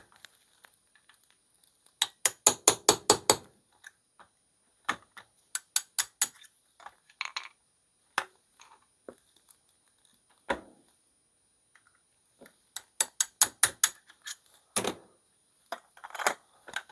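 Metal parts of a GForce pump shotgun clack as its trigger group is taken apart: quick close bursts of rapid clicking come in separate clusters, with scattered single taps and quiet gaps between them.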